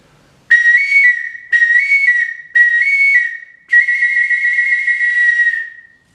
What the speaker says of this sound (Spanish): al construir estos orificios hace que la presión baje, y por lo tanto el tono natural del silbato cambie